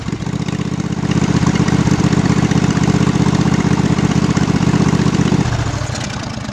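A choked small engine bound for a Craftsman machine fires up and settles into a steady, loud idle, its rapid thrumming running evenly for several seconds before abruptly dropping to a lighter, smoother idle near the end.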